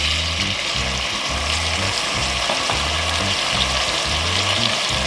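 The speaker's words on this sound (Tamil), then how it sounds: "வெங்காயம் கொஞ்சம் வதங்கிடுச்சுன்னு தக்காளி சேர்த்துக்கலாம்." Onions and tomato sautéing in a pan for Kongu-style avarai paruppu rice give a steady close sizzle, with a low rhythmic rumble and scraping from stirring throughout.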